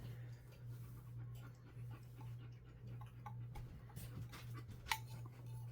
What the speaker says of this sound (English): I have Doberman trying to eat plaster